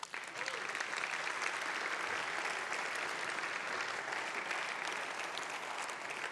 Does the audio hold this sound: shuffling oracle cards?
no